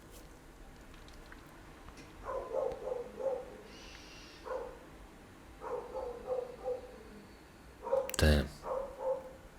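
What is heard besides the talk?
dogs barking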